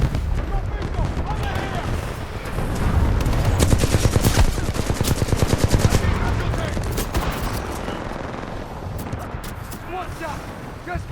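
Rapid gunfire from the video game Titanfall 2, dense bursts of automatic shots that swell loud in the middle, with a voice briefly calling out over the shooting.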